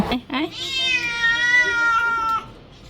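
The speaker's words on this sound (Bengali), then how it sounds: "একটি বিড়াল আরেকটি বিড়ালকে কিভাবে শব্দ করে ডাকছে দেখুন" A brown street cat meows loudly and close by to call the other cats, giving a couple of short chirps and then one long, drawn-out cry that fades near the end.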